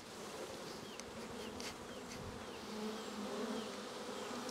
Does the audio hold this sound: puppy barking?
no